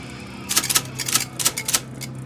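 An IBM Selectric typewriter with a suspected bad belt runs in a quick cluster of sharp mechanical clacks and strikes over a steady motor hum, close and loud, with no talk.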